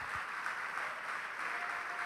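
A church congregation applauds together, a dense, steady wash of clapping that stays loud and even throughout with no talking over it.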